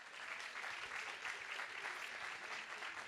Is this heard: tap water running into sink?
no